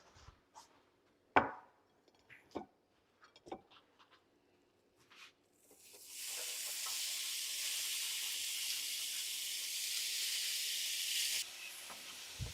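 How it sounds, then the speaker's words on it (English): Ground beef browns in a pan, starting with a few scattered clacks of utensils. Then a loud, steady sizzle rises and holds for several seconds before dropping off, with no talk. "We're going to start browning our ground beef"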